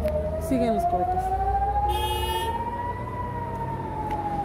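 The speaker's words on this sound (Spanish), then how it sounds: "venimos en el coche y sigue sonando la sirena" An air raid siren wails steadily across Tel Aviv during a rocket attack, its long rising tone carrying continuously from a distance while heard from inside a moving car, with brief louder bursts of other noise.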